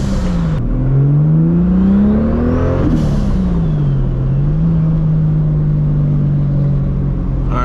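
A 1000 hp Toyota Supra on street tires roars loudly and close, its engine revving up, dropping briefly, then climbing again before settling into a sustained high drone.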